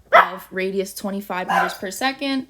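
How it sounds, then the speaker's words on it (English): Dogs barking in the background of a home, a run of quick yips and barks that are partly masked by someone talking over them. "I'm so sorry for my dogs in the background."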